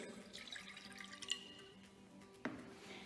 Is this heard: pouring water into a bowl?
yes